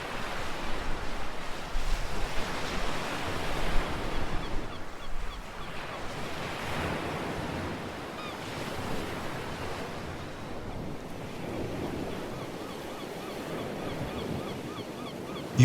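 Ocean waves roll and wash steadily near a seaside cottage at twilight, a continuous broad surf wash with gusty wind noise, moderately loud and unbroken, no voices.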